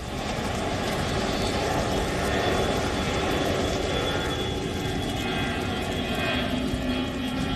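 Firefighting aircraft drone steadily overhead, a continuous loud engine roar with no breaks, consistent with helicopters and airplanes working a wildfire.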